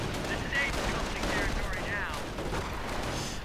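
Gunfire crackles from a WWII real-time strategy battle, with sharp reports amid ongoing combat noise and effects, quite low in level and not clearly resolving into a single distinct rifle crack.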